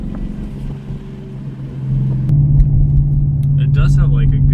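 A 2024 Ford Mustang GT S650 with an X-pipe and muffler delete cruises past a house under light throttle, its exhaust a steady, deep droning rumble that swells louder midway as it nears, with people talking over it.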